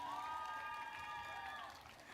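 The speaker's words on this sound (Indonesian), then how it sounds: "Tepuk tangan yang meriah" Crowd applause with cheering at the closing ceremony of an international orchid exhibition in Bali, a distant wash of clapping under a sustained voice or tone, then easing slightly.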